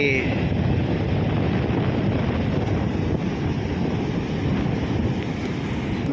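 High-tide ocean waves surging onto a shore where fishermen work the surf: a continuous loud roar of rushing water mixed with gusty wind buffeting the microphone.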